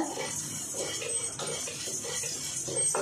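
Lentils dry-roasting in an iron kadai over a low flame, stirred with a utensil: repeated light metallic scrapes and clinks, fairly quiet and close, with steady background noise.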